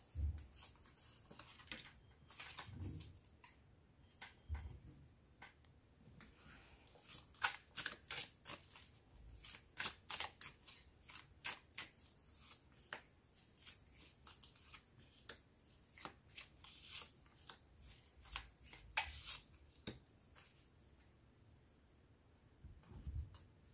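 Tarot cards shuffled by hand for a card reading, a long run of quick riffling and soft slapping bursts close to the microphone, with no talking.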